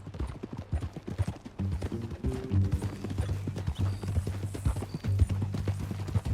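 Horse hooves clip-clop at a walking pace in the Red Dead Redemption 2 game, close and rhythmic over a low musical drone, with a brief snort.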